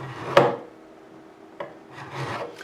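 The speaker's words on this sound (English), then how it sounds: "What I'll do is I'll go across this, take any burrs off." A file rasps across the frets of an ESP Edwards E-LP-100LTC Black Beauty electric guitar during a fret dress, taking off burrs in a few separate short strokes with quiet pauses between them.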